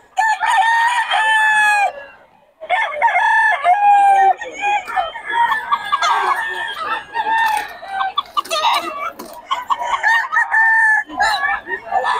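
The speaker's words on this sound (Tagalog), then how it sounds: "Black hen, eh." Close, loud clucking and crowing-like calls from a black hen at a market, in repeated bursts with short pauses between them.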